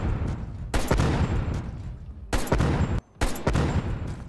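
Rapid gunfire in Call of Duty Black Ops Cold War, loud sustained automatic bursts broken by brief pauses, with a short near-silent gap partway through.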